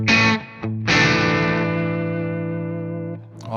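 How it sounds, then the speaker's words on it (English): Electric guitar played through a Metropoulos Super-Plex MK II 50-watt amp set at edge-of-breakup distortion: a short chord, a brief gap, then a loud chord ringing out and slowly decaying with sustained harmonics. "All of those edge of breakup tones are right there."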